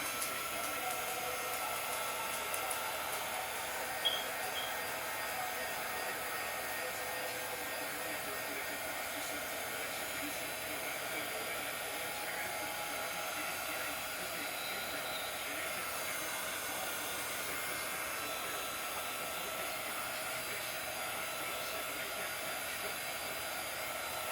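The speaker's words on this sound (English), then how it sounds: "I got my heat gun, and you don't need much heat" A heat gun blows hot air steadily over a spinning swirl-pattern piece, a constant broadband hiss held at one level from start to finish with only a faint bump early on and no talk.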